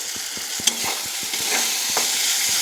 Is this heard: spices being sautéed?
yes